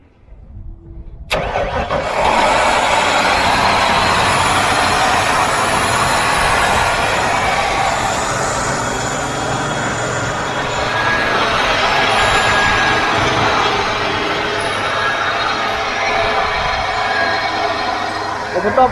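A 1995 Ford F-350 dually with a 5.8 V8 and ZF-5 gearbox, started for the first time in years: after brief quiet the engine catches and settles into a loud, rough, steady run with swelling revs, voices faint beneath.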